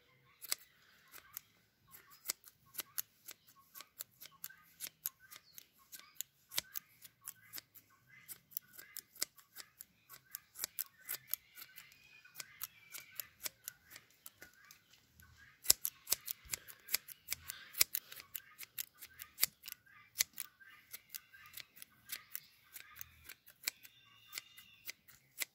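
Scissors trim a horse's mane up close, giving quick, crisp snips repeated in irregular bursts throughout.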